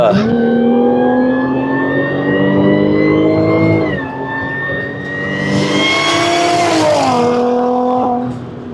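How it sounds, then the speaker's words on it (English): A supercharged Jaguar XF V6 revs with its exhaust valve closed, a loud rising and falling engine note topped by prominent supercharger whine over several pulls. "So the pros are a lot of supercharger whine. That was a closed valve."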